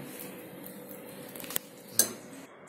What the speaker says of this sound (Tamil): ஸ்டீம் போனதுக்கு அப்புறம் நல்லா கிளறி விடுங்க.